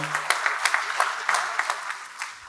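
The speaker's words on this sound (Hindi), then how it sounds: "आशु मिश्रा साहब के लिए जोरदार तालियां।" Applause for poet Ashu Mishra at a mushaira in Abu Dhabi, a modest burst of clapping with distinct individual claps that thins and fades toward the end.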